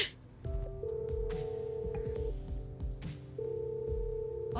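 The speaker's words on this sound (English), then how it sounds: "when you're getting a call and you're connected to the Bluetooth speaker, you will hear the phone" A phone call rings through a Hello Kitty vanity mirror Bluetooth speaker, two bursts of a steady electronic tone separated by a pause, over low background clatter.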